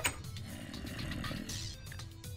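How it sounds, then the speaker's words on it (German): Rough, steady snoring from Minecraft mobs rumbles continuously at close range, layered with faint in-game ambient tones and no talking. "Und jetzt schnarchen sie auch noch."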